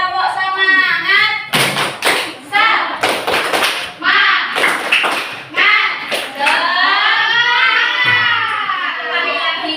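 A classroom of children claps and thumps out a rhythmic patterned clap in sharp group bursts, alternating with the children shouting and chanting loudly together between the strikes.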